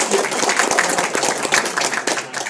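Steady burst of audience applause filling the room at a direct selling business seminar, dense clapping throughout without pause.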